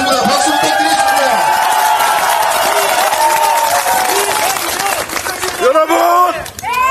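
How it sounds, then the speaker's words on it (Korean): Audience at a Korean political speech event breaks into steady applause mixed with crowd cheering, loud and sustained across the room before tapering off near the end. "박수 부탁드리겠습니다."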